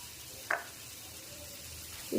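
Masala for masala pav sautéing in a pan, a soft steady sizzle with a brief stirring scrape near the start and another clatter of the spoon at the end, no one talking.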